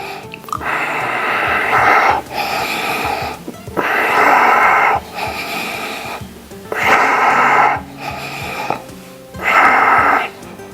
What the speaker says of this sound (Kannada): ಈ ಪೊಸಿಷನ್ ತಗೊಂಡ್ರೆ ಇಲ್ಲಿ ಕರೆಕ್ಟಾಗಿ ಉಸಿರು ತಗೊಳ್ಳಿ